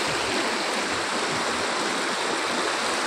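A mountain stream in Sikkim rushes over rocks in a continuous, loud, broadband gurgle and hiss, close by and steady throughout, with no voices.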